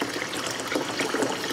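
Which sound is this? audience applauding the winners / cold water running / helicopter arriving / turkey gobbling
cold water running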